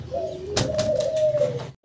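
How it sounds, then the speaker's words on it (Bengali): A pair of Kashmiri racer pigeons gives a drawn-out, throaty coo close by, one sustained rolling call over soft background noise that breaks off abruptly just before the end. "আমরা এখানে একজোড়া রেসার কবুতর দেখতে পারতেছি"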